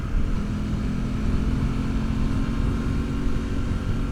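Aprilia Tuono 660 Factory motorcycle revving in second gear while riding, a steady, fairly loud engine drone with a held pitch for several seconds, no speech.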